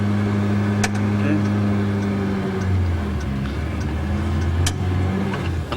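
A car engine hums steadily in first gear as it pulls away, a low drone with a pitch shift partway through, while people talk close by in the cabin.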